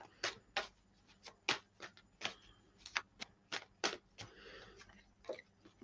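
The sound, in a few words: shuffling tarot cards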